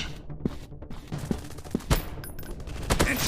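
Gunfire in a 3D first-person shooter video game, PUBG, sounds as several sharp shots spaced irregularly, each one loud and sudden.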